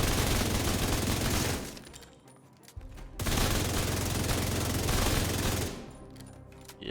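Sustained rapid gunfire from The Division 2 video game, a dense continuous fusillade loud and close, breaking off briefly midway before resuming with the same intensity, then easing off near the end.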